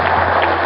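An audience at a lecture on oral trials in Chiapas applauds in a brief, dense burst of many hands clapping together, loud and continuous.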